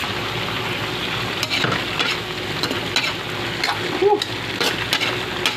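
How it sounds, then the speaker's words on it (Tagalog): Carrots and vegetables stir-frying for pancit bihon, a steady sizzle under repeated scraping of a utensil stirring the pan, close and moderately loud. "Ihulog na po natin itong gulay natin. Carrots, saka agibis mga idol. Halu-haluin lang po natin."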